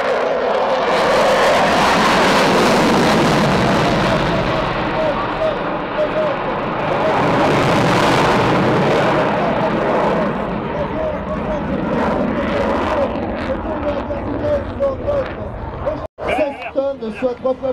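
Military fighter jets at the NATO Tiger Meet 2011 air show in Cambrai roar and swell overhead in a sustained loud engine wash, while a French announcer talks steadily over the public address and a crowd murmurs.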